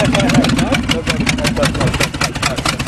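A 1998 Ford truck engine running after a cold start, a loud, rough, pulsing idle with steady uneven throbbing throughout, close to the microphone with some voices around it.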